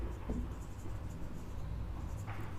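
A pen scratches across paper or a board during a physics lesson on work and energy, quiet irregular strokes and taps sounding close against faint room noise.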